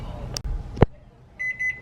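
A kitchen timer being set beside an oven while ribs cook gives a few short, bright electronic beeps near the end, following a sharp clack, with faint room noise underneath.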